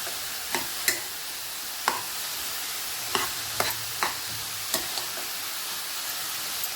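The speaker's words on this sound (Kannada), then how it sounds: "ಎಲ್ಲ ಹಾಕಿ ಮಿಕ್ಸ್ ಮಾಡೋಣ" Mushroom filling for veg momos being stirred and mixed in a pan, with a faint steady sizzle beneath and a series of sharp spoon scrapes and taps against the pan spaced roughly every half second to second.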